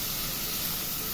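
Onion and garlic sizzling in pork lard in a pan while seasoning rice, a soft, steady hiss of frying, fairly quiet and continuous.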